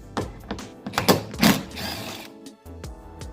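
A rear bumper bolt being unbolted on a Honda Civic, a series of sharp metallic clicks and ratcheting rattles in quick irregular bursts, close up, followed by a brief pause and a few more clacks.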